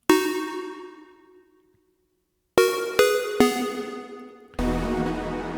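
Chiptune-style pluck synth lead made in Native Instruments Massive: bright harmonic notes with sharp attacks and quick decays, one ringing note, a pause, then three quick plucks and a fuller sustained tone, played alone.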